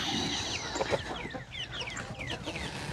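Chickens in a backyard coop clucking and squawking close by, a busy run of overlapping calls over about three seconds with soft shuffling underneath and no talk.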